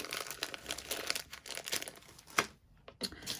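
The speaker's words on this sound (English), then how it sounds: "I'm just going to roughly cut an oval of the light yellow" Scissors cutting light yellow crepe paper into a rough oval, close and quiet crinkling and snipping in short irregular bursts with no talking.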